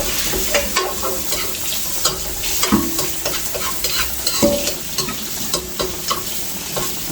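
Something sautés in a hot pan with steady loud sizzling and brisk, rhythmic stirring scrapes. A few sharper knocks come through, and no one speaks.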